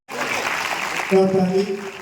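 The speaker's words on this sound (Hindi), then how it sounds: "जोरदार ताली" An audience applauds in a steady wash of clapping while a voice calls out over it, at an indoor association foundation day event.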